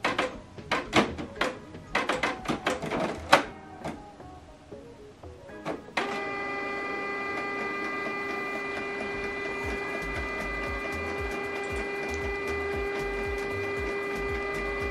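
Canon Pixma inkjet printer priming ink after a cartridge change, starting with a series of clicks and clunks of the carriage, then settling into a steady whirring mechanical hum with a sustained tonal whine.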